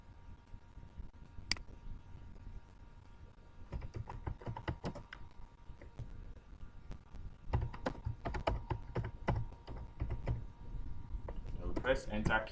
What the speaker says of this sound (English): Then we press enter key on our keyboard.